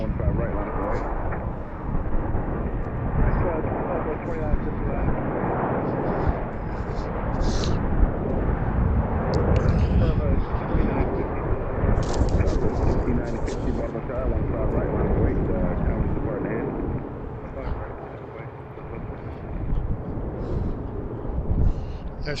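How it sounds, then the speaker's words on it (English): A Southwest jet takes off from runway 15 right at BWI in Baltimore, its engines a loud, steady broadband roar that holds throughout, with a person talking over it. "On that 15 right, clear for takeoff, Southwest 2562."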